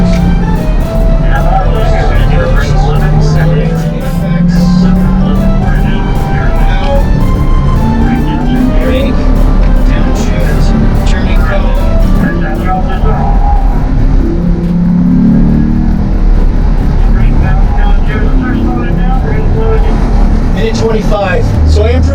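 Chevrolet Corvette C8 on a track run, its engine droning steadily throughout with shifting pitch as it accelerates and lifts, loud and close from inside, with voices talking over it.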